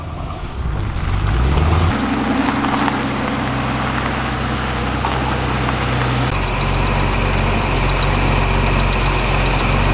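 An old, oil-leaking Holden 202 six-cylinder engine running steadily at idle, a loud, close, continuous low rumble that shifts slightly in tone partway through, with no voices.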